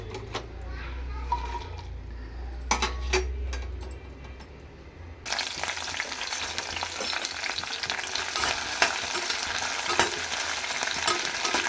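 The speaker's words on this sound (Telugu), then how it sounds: "ఆయిల్ వేసుకొని ఇందులో పచ్చిమిర్చి ముక్కలు వేయించుకోవాలి." Green chilli pieces frying in oil in a pan, a crackling sizzle that rises suddenly partway through after quieter kitchen clatter, with a voice talking over it at times.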